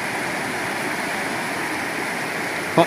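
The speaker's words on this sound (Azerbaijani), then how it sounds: "Çayın şırıltısına bak ya." A river stream babbles in Zangilan with a steady, loud, broadband rush of flowing water throughout and a brief knock near the end.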